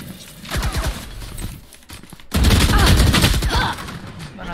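A Valorant swarm grenade goes off in a rapid burst of sharp cracking pops, a first volley followed by a louder, denser cluster of detonations, close and harsh.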